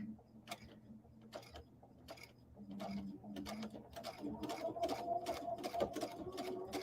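A sewing machine stitches a quilted acorn coaster, its needle tapping in quick, steady mechanical bursts that grow busier and louder as it runs, close up over a low motor hum.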